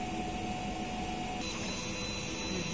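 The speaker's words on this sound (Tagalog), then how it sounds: "Ito po yung printer head natin." The print head of a Jenra DTF printer runs with a steady mechanical whir and hum, continuous and close, with no talk over it.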